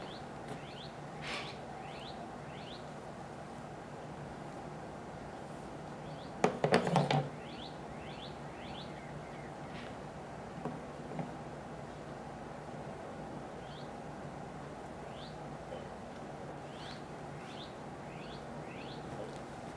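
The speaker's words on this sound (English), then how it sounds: "I love the sound of birds." Outdoor birdsong at an Easter Egg event: scattered short chirps and whistled calls repeat at a moderate distance over quiet ambience, with a brief cluster of knocks partway through.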